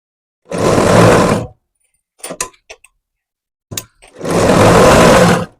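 Sewing machine stitching a folded blouse dart, two loud continuous whirring bursts of about a second each, separated by a pause filled with small clicks and fabric handling noises.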